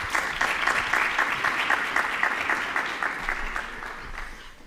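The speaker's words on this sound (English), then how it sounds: "Let's give another round of applause" Audience applause at an annual symposium, a steady dense wash of many hands clapping throughout, fairly loud and without talk.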